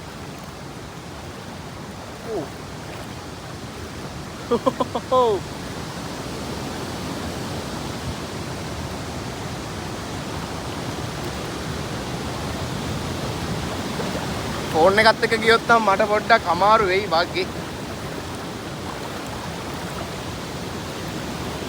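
A strong river current rushes in a loud, unbroken roar during a crossing on foot at Narampanava, with brief bursts of a man's speech over the water.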